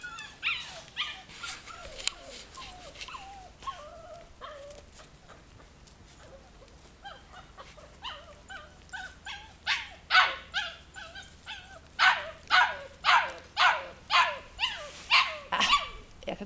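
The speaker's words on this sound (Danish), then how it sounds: "jeg kan jo høre de andre hvalpe derovre" Goldendoodle puppies about five to six weeks old whimper softly at first, then break into a run of rapid, fairly close yips and barks that grow louder and more regular toward the end.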